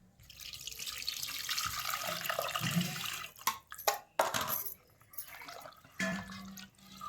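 Water pours and splashes steadily for a few seconds, then comes in shorter bursts and trickles, close by with no talking.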